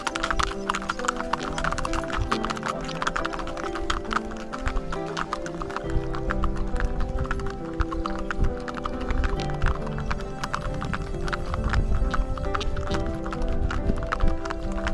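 A horse's hooves clip-clop steadily and close by during a horseback ride near Gulmarg in Kashmir, the quick repeated beats set against a busy, dense outdoor background.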